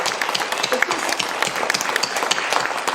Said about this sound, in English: I want to ask for a round of applause for all these community groups